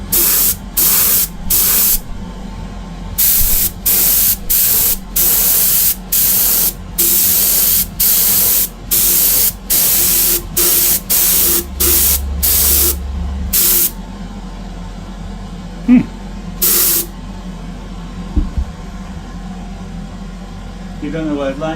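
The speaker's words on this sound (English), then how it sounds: "And of course the hardest bit to spray is inside the handle." Airbrush spraying base coat onto a Greek-style vase, working into the handle: a long run of short hissing bursts, each about half a second, fired in a steady rhythm close up over a low background hum, thinning out toward the end.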